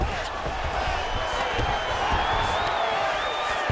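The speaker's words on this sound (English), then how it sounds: "the crowd absolutely loving it as these fighters work their way back to the feet" A crowd at an MMA fight roars and cheers steadily with rising whoops, a loud continuous arena din mixed with scattered voices.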